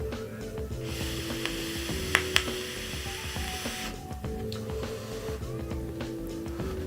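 A Vandy Vape Bonza mechanical mod draws smoothly, a soft airy hiss that swells for a few seconds in the middle over light mechanical clicks and a low background hum.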